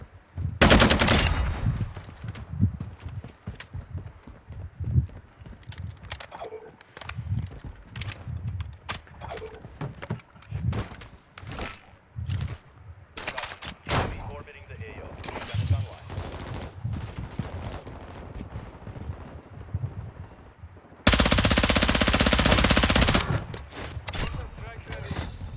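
Rapid bursts of automatic gunfire come from a gun in a video game, loud and repeated across the stretch with mechanical clicks between volleys and a long sustained blast near the end, while a person talks over it.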